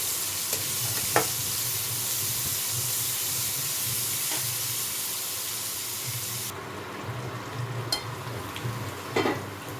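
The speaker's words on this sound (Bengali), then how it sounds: "এবার এর মধ্যে কুচনো পেঁয়াজটা দিয়ে দেবো। পেঁয়াজটা লাল লাল করে ভেজে নেব।" Chopped onion sizzles and hisses steadily in hot oil, a continuous near frying sound with occasional stirring scrapes and no talk.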